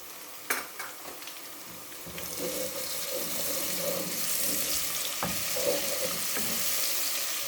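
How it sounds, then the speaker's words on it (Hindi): Oil sizzles steadily in a pan as a ginger, garlic and green chili paste fries, with a few clinks of a spoon and some stirring scrapes, no voices. "अदरक लहसुन और हरी मिर्च की पेस्ट जो है वो फ्राई हो गई है।"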